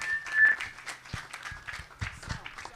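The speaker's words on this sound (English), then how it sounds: "A round of applause." Scattered clapping from a small audience at a business open house, a brief whistle near the start, then uneven individual claps at moderate distance.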